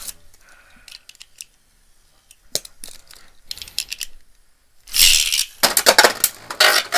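Beyblade spinning top scraping and clattering in a plastic stadium, in bursts of sharp scratchy rattling, growing loud and dense in the last couple of seconds.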